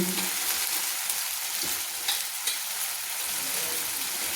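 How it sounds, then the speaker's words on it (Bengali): A steady hiss of ginger and green chilli frying in hot oil in a wok, continuous and fairly close, with a couple of faint stirring scrapes. "আমি তেলের মধ্যে আদা আর কাঁচা লঙ্কা কিন্তু কষিয়ে নিয়েছি"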